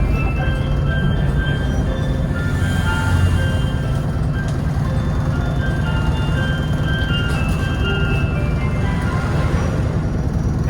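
A Shiba-decorated community bus on a Tokyo street plays its cute tonal jingle in short melodic notes, half-buried in a steady roar of traffic and rail noise.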